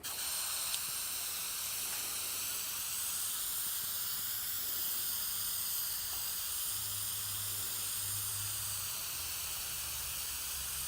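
Adhesive spray hisses in a continuous light coat onto a van upholstery panel in a shop, a steady close airy hiss with no talk.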